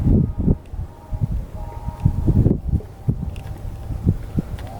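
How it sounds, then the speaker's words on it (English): Gusty wind buffets the microphone on a lakeside jerkbait fishing outing, with uneven low rumbling bursts rising and falling throughout and no voices. "I can talk while the wind's going, since I'm up close to the camera"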